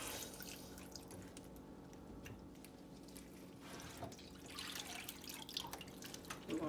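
Water trickles and drips faintly from a 17-pound turkey draining in a kitchen sink, a soft continuous wet patter with a few louder splashes near the end.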